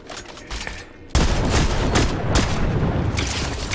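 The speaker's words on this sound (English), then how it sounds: "Oh, he's shooting from up top." Rapid video game shooter gunfire in a combat match, a quieter spell of distant shots giving way to a loud, dense burst of sustained automatic fire with overlapping booms that carries on to the end.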